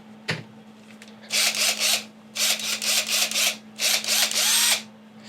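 A faint click, then a power drill whirs in short repeated bursts with brief pauses between, close and fairly loud.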